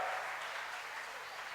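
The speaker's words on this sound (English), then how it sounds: "May we have a huge round of applause for Professor Rajiv Dasgupta" Applause for Professor Rajiv Dasgupta at a college career fair, a steady, moderately loud wash of clapping that holds evenly through the short stretch.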